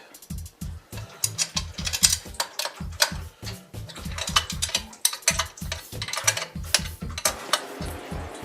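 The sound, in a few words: ratchet wrench removing alternator bracket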